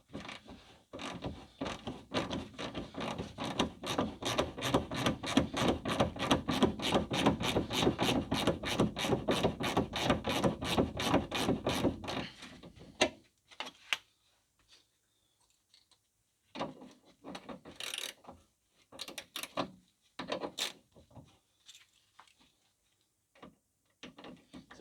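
A ratchet or wrench spins off the drop link nut on a Ford C-Max rear anti-roll bar while a T30 Torx holds the stud, giving a fast, steady run of close mechanical clicks for about thirteen seconds, then a few scattered clanks and rattles.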